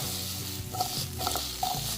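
Vegetables shallow-fry in a pan over a high flame, a close, steady sizzle with a few stirring scrapes and clinks, and no voices.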